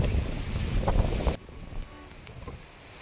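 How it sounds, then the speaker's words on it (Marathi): Strong wind buffeting the microphone at Sinhagad Fort, a hilltop fort near Pune: a loud, rough roar for over a second, then a quieter, steadier rush of air with no speech. "एकदम तीव्र हवा सुटते एकदम तीव्र हवा"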